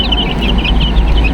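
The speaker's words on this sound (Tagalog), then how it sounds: "Tapos ito pala yung mga Rhode Island chicks natin, oh." Four-day-old Rhode Island chicks peeping in a group, a steady run of high, thin repeated chirps over a low rumbling background, fairly close.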